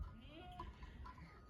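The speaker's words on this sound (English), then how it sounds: "Those are goats." A few goats bleat faintly at a distance on a farm, short wavering calls over quiet background rumble.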